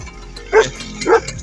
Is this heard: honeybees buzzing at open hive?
no